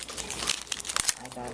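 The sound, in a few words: crinkling wrapper of opened dice booster pack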